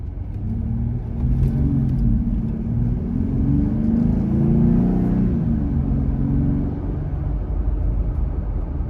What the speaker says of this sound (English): We're going to take off from a stop. I'll give it a little bit of gas.